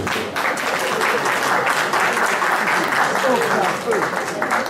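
Audience applause at an inventions awards ceremony, a dense, steady wash of many hands clapping that holds through the whole stretch, with a voice heard faintly over it.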